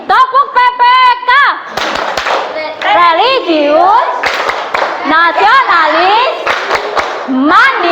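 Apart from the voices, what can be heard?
class doing a rhythmic clapping chant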